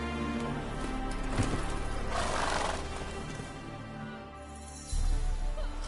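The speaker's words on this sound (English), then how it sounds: "Whoa there, Roach" In The Witcher 3, the horse Roach whinnies and snorts over hooves, the neigh rising in the middle amid dense game ambience and music, loud and close.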